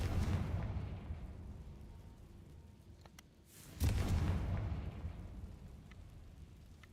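Confringo fire spell exploding in Hogwarts Legacy, a low rumbling burst at the start, then a second deeper blast midway with a rolling, crackling tail over steady ambient noise.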